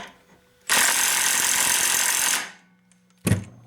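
Makita XWT02 brushless 18V LXT 1/2-inch cordless impact wrench on power mode 2 tightening a nut, one loud sustained hammering burst of nearly two seconds, then a short second burst after a pause.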